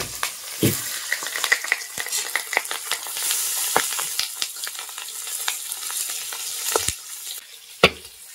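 Small fresh pond fish fry in hot mustard oil in a pan, a steady loud sizzle with crackling pops and occasional spatula clinks, no voices.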